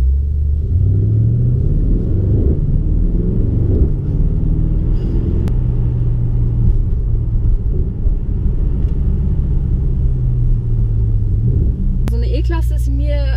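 A Mercedes-AMG E63 S Edition 1 pulls away, its engine giving a steady, close, low rumble that holds through the whole stretch, with a voice talking over the drone.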